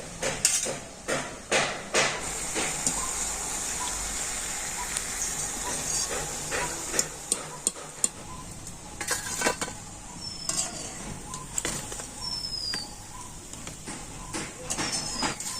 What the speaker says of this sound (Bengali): মিষ্টিগুলোকে খুব সুন্দর লাল লাল করে আমি ভেজে নেব